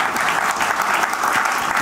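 Audience applause fills a comedy show stage final, a steady dense wash of clapping from a large crowd, sustained and fairly loud for the whole moment with no talking.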